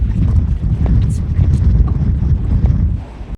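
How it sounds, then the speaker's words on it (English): Strong, cold wind in Melbourne buffets the microphone in heavy, rumbling gusts, loud and continuous throughout. "So how windy is it? It's this windy."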